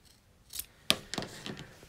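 Fabric scissors snip off the corners of a sewn appliqué bag in a few crisp, close cuts, with one sharp snap followed by lighter snips.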